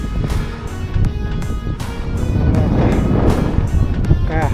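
Strong wind on a solo mountain trek to Kalavantin Durg, a continuous loud roar buffeting the microphone with rising and falling gusts throughout.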